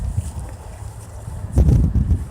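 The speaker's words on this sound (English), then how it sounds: "You can already see the wind. Look, the wind is following me." Wind blowing outdoors among trees, heard as low rumbling buffeting against the microphone, steady at first and then gusting louder for the last second.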